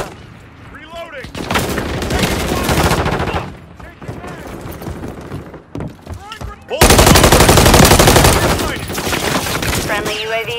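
Rapid automatic gunfire in Call of Duty Modern Warfare III, loud sustained bursts of machine-gun fire with short gaps and a louder second volley, with in-game voice callouts over it.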